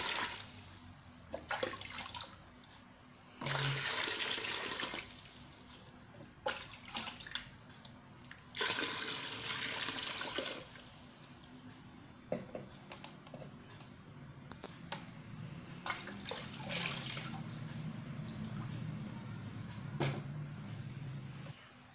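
Liquid for a Nitrobacter bacteria culture, about two to three litres, poured into a bucket in several separate bursts, then a steadier trickle of running water toward the end.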